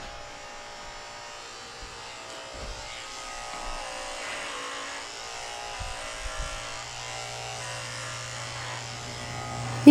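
Electric dog grooming clippers fitted with a number 7 blade hum steadily on a Cavalier King Charles Spaniel, a faint even buzz with soft low bumps from handling and a sudden loud knock at the very end.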